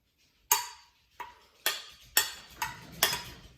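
A spoon stirring rice and quinoa in a pot, heard as six sharp scraping knocks against the pot at an irregular pace, close and distinct, with quiet between strokes.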